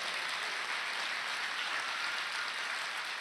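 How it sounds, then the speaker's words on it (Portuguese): Soft, steady applause fills a church congregation, an even wash of clapping that stays constant and fairly quiet throughout, with no voices rising above it. "vamos aplaudir ao Senhor"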